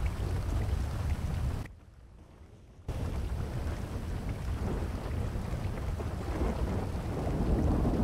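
Stormy weather on a boat ride to Cayo Perico in a video game: a steady, loud wash of rain and rumbling thunder fills the scene, broken by a brief drop-out of near silence before the storm noise resumes.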